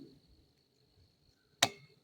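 A single sharp snip of pruners cuts through a castor bean plant's seed pod stem, one close, crisp click in an otherwise quiet outdoor setting with a faint steady insect hum.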